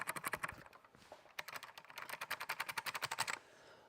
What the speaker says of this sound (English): if you type on this keyboard, I think you can hear it